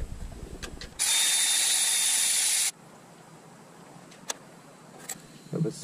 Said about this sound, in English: Got a 12 millimeter socket here, deep well socket. Gonna go ahead and remove this brake rod.